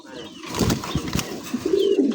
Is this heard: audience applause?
no